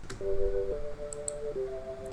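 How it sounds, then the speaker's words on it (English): Soft, steady organ tones hold and shift between notes over a faint background hiss and light clicks. "The other instrument that we have is a organ sound"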